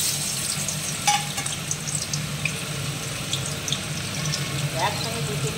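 Paneer pieces fry in a hot kadai, giving a steady, close hiss of sizzling oil broken by a few sharp utensil clinks, with no talking.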